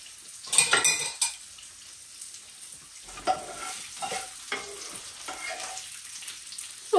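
Ribbon pasta is served onto a plate and topped with gorgonzola cream sauce, making clinking utensil and dish sounds with a louder clatter near the start and softer scraping and taps afterward, no talking.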